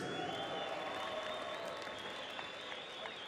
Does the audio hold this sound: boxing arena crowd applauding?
yes